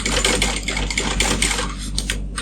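A sewing machine stitches a fabric pouch at a steady, rapid whirring clatter, close and loud, running continuously with a slight slowdown near the end.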